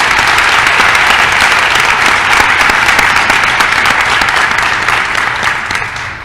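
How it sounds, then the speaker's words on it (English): Audience applause at a December 2019 nursing pinning ceremony, a dense, steady wash of many hands clapping that fills the room and holds loud throughout before easing slightly at the end. "let's give Kennedy a round of applause here."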